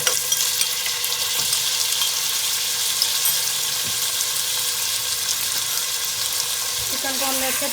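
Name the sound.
chicken frying in oil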